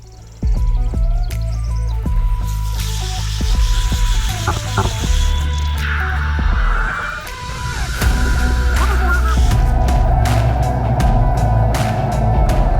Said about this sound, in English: While this robot cleans the bottom of my pool